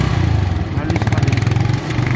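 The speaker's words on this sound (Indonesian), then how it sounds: "Suara mesinnya halus sekali." A cheap Taiwanese motorcycle engine idles nearby, a steady low rumble with a rapid even pulse that holds for the whole stretch, with a voice talking over it.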